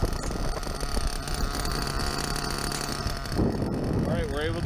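A nitro RC buggy engine idles continuously with a rough mechanical buzz, joined near the end by a rising whine and some brief talk.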